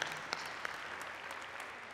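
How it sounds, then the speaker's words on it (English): Audience applause at an open house presentation, a steady wash of many hands clapping that fills the whole stretch at moderate volume, with a few sharper individual claps standing out. "Give them a great big round of applause for their service"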